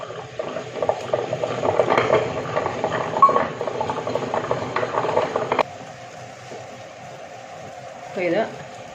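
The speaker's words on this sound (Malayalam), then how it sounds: "ഈ ഒരു ഗ്രൈൻഡറിൽ ഇട്ടിട്ടാണ് ഞാൻ അരി അരച്ചെടുക്കുന്നത്" A wet grinder churns rice with water, a steady sloshing, bubbling drone that cuts out partway, leaving a quieter hum and a brief voice.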